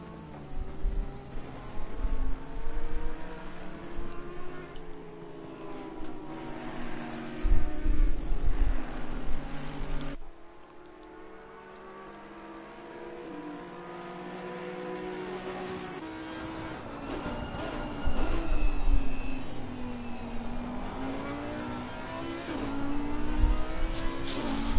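Audi R8 GT3 and GT4 race cars lapping the Calamari circuit in a racing video game: droning, shifting engine notes rise and fall as the cars accelerate and change gear, with several engines overlapping, steady and mid-loud, without talk.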